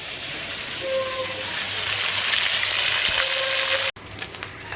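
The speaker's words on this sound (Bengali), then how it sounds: "মাংস তো এখানে ভাজা ভাজা হচ্ছেই" Continuous hiss of meat frying in a hot pan, with a brief clatter and a sudden cut near the end.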